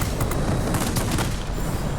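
Ki-162-III aircraft guns firing in World of Warplanes, a dense, steady stream of rapid automatic bursts held loud and close for the whole stretch with no pauses.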